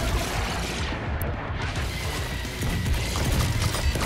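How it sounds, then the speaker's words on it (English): Dense, continuous barrage of explosive rocket-launcher blasts in the shooter game Doom Eternal, loud and chaotic with overlapping booms and crashes throughout. "I'm using rocket launcher."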